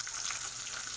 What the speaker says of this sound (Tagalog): Habang nagpiprito ko,